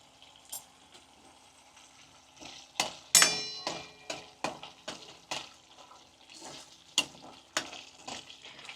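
A spoon scrapes and stirs through peanut bhajiya gravy frying in a pan, a string of sharp, uneven strokes over a faint background sizzle, close and moderately quiet.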